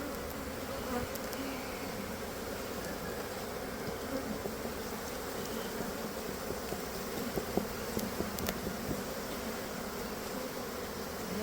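Dense, steady buzzing of many bees at a hive entrance fills the air continuously during an inspection, close and unbroken, with occasional faint clicks.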